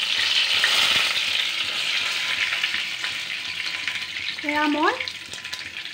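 Three bay leaves sizzle in hot oil for a chicken masala curry, a loud crackling fry that eases slightly over time, with someone speaking briefly near the end.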